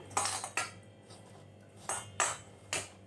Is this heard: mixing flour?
yes